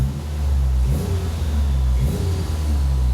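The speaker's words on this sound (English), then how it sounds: "we've got a car that idles and revs." A turbocharged Toyota Hilux sleeper engine revs on a dyno, a loud, deep, steady rumble that swells twice with rev bursts, close up and with no voices.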